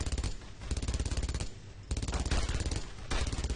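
Automatic gunfire from enemy soldiers in the World War II shooter Brothers in Arms: Road to Hill 30, sustained rapid bursts broken by brief pauses, loud and close.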